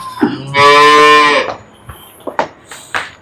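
A cow offered for sale with her calf beside her lets out one long, loud, close moo, followed by scattered soft knocks and shuffling sounds.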